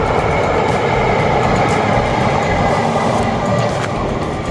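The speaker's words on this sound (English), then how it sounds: "I want to see a train." A train passes on a railway line near Rutland Water, a loud, steady rumble that holds through the whole stretch with no voices over it.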